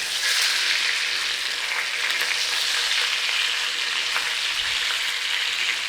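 Chicken pieces pan-frying in a hot skillet give off a steady, dense sizzle that runs unbroken and fairly loud throughout, with no talking.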